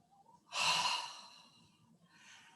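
Single deep breath during a standing balance exercise class, a strong airy exhale rushing out close to the microphone, followed by a softer breath, in an otherwise quiet room.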